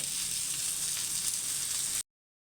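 Bangus (milkfish) fries over low heat in a pan, giving a steady, dense sizzle with an even hiss throughout, no talk, ending abruptly in silence.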